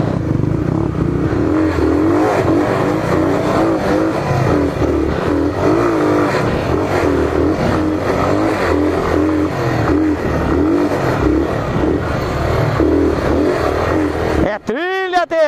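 A Honda XLR 125 trail motorcycle, alongside a Titan 150, labours up a dirt climb on a rear tyre without knobs, its engine revving hard and steadily up close, with clattering, then a sharp pitch sweep near the end.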